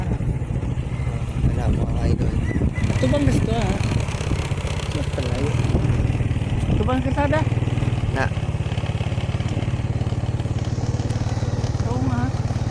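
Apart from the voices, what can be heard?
motorcycle engine running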